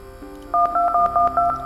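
Telephone keypad tones from a plane accident simulator video game, a quick run of about five steady two-pitch DTMF beeps, clear and close, with no talk.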